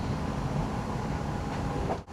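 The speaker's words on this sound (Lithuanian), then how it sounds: "Prasilenkiam su traukiniu kitu." Steady low rumble of another train passing close by, heard from inside a moving commuter train in Denmark, fading out at the end.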